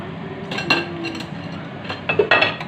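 A utensil clinks and scrapes against a pan while pancit bihon is stirred, giving a few sharp metallic taps with quieter scraping in between, close and alone.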